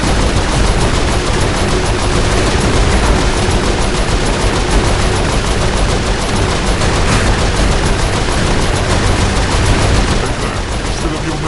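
Sustained, dense turret machine-gun fire in the video game Saints Row IV, loud and unbroken for the whole stretch with voices buried underneath.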